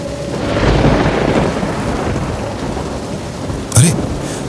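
A monsoon thunderstorm pours heavy rain over a graveyard at night. Steady rain hiss is joined by rumbling thunder, and a sharp, loud crack of thunder breaks out near the end.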